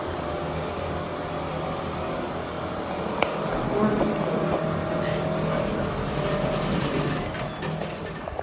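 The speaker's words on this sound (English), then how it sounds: "In the elevator right now, delivering groceries." An apartment building elevator running between floors, a low steady mechanical hum with faint clicks and clunks throughout, at moderate volume.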